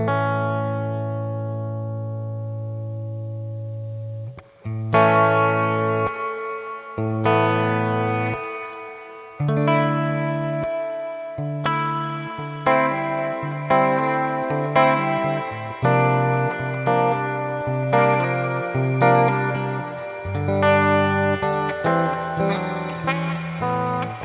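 An electric guitar runs through a Sonicake Pocketmaster effects unit on a light reverb setting, playing a melodic phrase of sustained notes and chords with a soft lingering tail, clear and alone.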